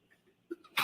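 A single short, sharp sneeze bursts out near the end of a courtroom hearing, after a quiet moment with a faint breath before it.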